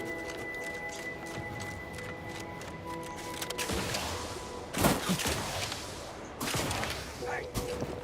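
Bursts of gunfire in The Outer Worlds 2 crackle through a busy game soundscape, with a sharp loud volley near the middle and further shots and footsteps scattered around it.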